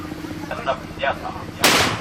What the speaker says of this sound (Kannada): ಪಟಾಕಿ ಅಂಗಡಿಯಲ್ಲಿ ಸಿಗುತ್ತೆ ಗನ್ ಶಾಟ್ ಅಂತ ಹೇಳಿ ಜಂಪಿಂಗ್ ಶಾಟ್ ಜಂಪಿಂಗ್ ಶಾಟ್ ಅಂತ ಹೇಳಿ